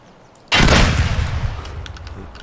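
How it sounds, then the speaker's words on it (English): A double-barrel shotgun fires once in a video game, a sudden loud close blast with a long booming tail that fades over about two seconds. "Double barrel shotgun, baby."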